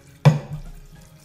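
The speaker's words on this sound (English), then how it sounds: "And I'll give it a rinse, and then I'll fill it up again with water." Water splashes and pours into a glass sprouting jar as it is rinsed and refilled, a sudden close gush followed by a fading trickle, with no speech.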